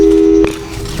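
A telephone busy signal from the Portal 2 video game sounds as a loud, short steady tone that cuts off abruptly, leaving faint background noise behind.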